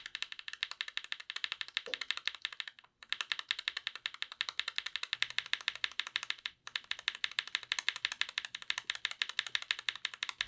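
Steady, fast typing on a keyboard fitted with Emogogo mechanical switches, each keystroke a crisp, fairly clacky click with a slightly deeper body, in a continuous close rhythm with two brief pauses and no talking.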